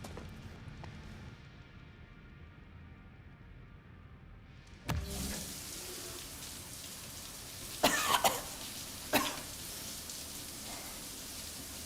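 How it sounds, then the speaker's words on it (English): A video game character gives a few short, harsh coughs in a quick cluster, then one more, over a steady rain-like hiss following a sharp click. "Coughing up blood, you know, the usual bit."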